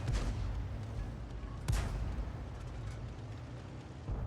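A single heavy shot from an M44 self-propelled artillery gun in World of Tanks, a sharp boom over a constant low rumble of engine and battle noise, followed by a steady background drone and another swell near the end.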